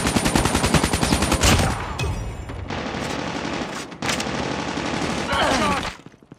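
Gunfire from a first-person shooter match rattles in dense, rapid automatic bursts nearly throughout, loud and close, with brief pauses and game voice callouts mixed in before tapering off at the end.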